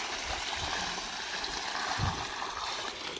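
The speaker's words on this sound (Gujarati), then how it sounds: "ઝાડવાને પાણી પાઈ દઈ." A bucket of water is poured over sun-parched garden shrubs, giving a steady, fairly loud rushing splash and trickle that runs for the whole stretch with no talk.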